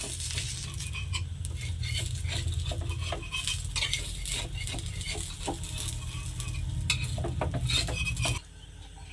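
Chapati being flipped with a metal spatula in a pan: repeated sharp scraping and light clinks of metal on the pan over a steady low hiss, close and fairly loud, stopping abruptly near the end.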